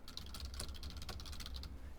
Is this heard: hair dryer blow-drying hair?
no